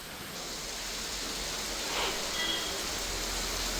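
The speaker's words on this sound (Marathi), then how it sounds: "आंबोलीमध्ये आज दिवसभर मुसळधार पाऊस पडत आहे." Heavy monsoon rain falls steadily at Amboli in Sindhudurg, a dense, even hiss with no breaks and no voices.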